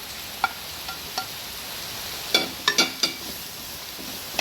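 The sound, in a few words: sautéing onion, capsicum, ginger and garlic in a pan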